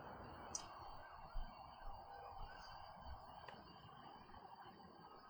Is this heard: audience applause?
no